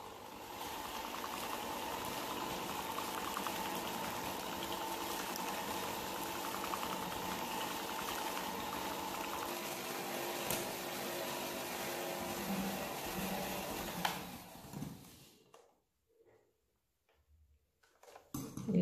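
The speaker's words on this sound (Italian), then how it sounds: "adesso a velocità media lavoro con il frullatore per 7-8 minuti fino ad ottenere un composto gonfio e spumoso" An electric mixer whisking cake batter with lemon at medium speed, a steady whirring drone with a constant hum, running continuously for about fifteen seconds before switching off into near silence with faint handling.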